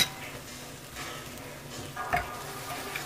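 White onion is stirred into a hot pan with carne asada for street tacos, a faint steady sizzle punctuated by a few soft utensil scrapes and clinks, with no talking.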